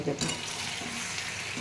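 Chicken with onions, green chillies, capsicum and tomato sizzling in a pan, a steady broadband hiss of frying throughout, with a brief spoken word near the start.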